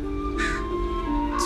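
Ravens cawing outdoors, two harsh calls over a steady background hum, with the second call starting at the very end.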